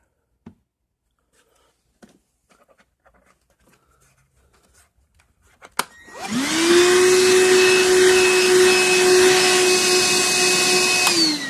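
A Hercules cordless half-gallon wet/dry shop vac, 6 lb with a 5 amp battery, clicks on after quiet handling noises and settles into a loud, steady whirring hum with a high whine.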